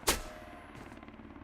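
A single sharp enemy gunshot cracks out in Road to Vostok's winter setting, loud and sudden, then fades into a brief echoing tail and low ambient hiss.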